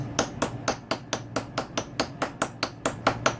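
Sharp metallic hammer taps drive a tight-fitting coated sprocket onto a 2016 Suzuki RMZ450 motorcycle, about fourteen evenly spaced loud close strikes with nobody talking.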